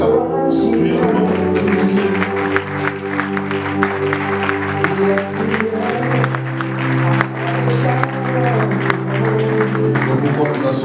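A church congregation in Johannesburg claps steadily along with loud worship music and singing, the applause dense and continuous throughout.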